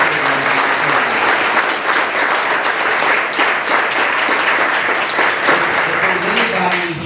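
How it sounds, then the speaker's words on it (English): Audience applause at a Miami County Foundation fall grant celebration, a dense steady round of clapping from a crowded room that holds loud and even for about seven seconds before easing slightly at the end. "Let's have a round of applause for all of you."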